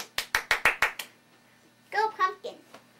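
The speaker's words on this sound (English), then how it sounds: "Give her a big round of applause." A few sharp handclaps in a quick steady run, close and fairly loud, celebrating Punkin the performing cat, followed by a voice talking briefly.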